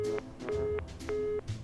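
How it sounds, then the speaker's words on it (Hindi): A telephone disconnect tone after a call is hung up: three steady, evenly spaced electronic beeps with short gaps between them, fairly close and clear over faint background hiss. "उसने फोन काट दिया।"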